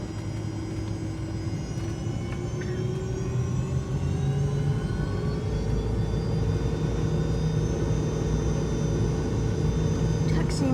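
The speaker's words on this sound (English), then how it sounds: "Taxiing very fast here." Fokker 70 airliner taxiing fast after landing, heard from inside the cabin as a steady engine rumble with a whining tone, while a voice speaks throughout.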